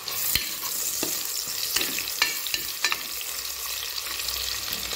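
Two large onions, sliced lengthwise, sizzle in a pan of oil for tomato rice, a continuous hiss broken by sharp scrapes and taps of a spoon stirring them, close and fairly loud.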